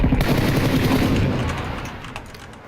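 Automatic gunfire in PUBG (Battlegrounds), a dense run of rapid shots that stays loud before easing slightly toward the end, with no talk over it.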